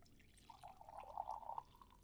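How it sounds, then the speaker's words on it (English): Coffee poured from a French press into a cup, a thin steady liquid stream starting after a brief pause and running for about a second before tapering off, faint and close. "Poured from my French press."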